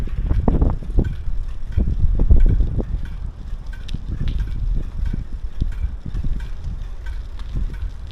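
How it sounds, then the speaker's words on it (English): A noisy bicycle rattles and clunks while being ridden through Hokkaido, with irregular low knocks and thumps over rushing wind buffeting the microphone, close and fairly loud. "Of course I get a noisy bike."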